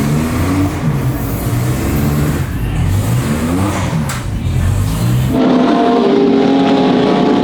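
A Porsche race car in Gulf livery revs hard in the paddock at the Espiritu de Montjuic historic racing event, its engine note climbing and falling through loud, close, sweeping pulls before settling into a steadier roar.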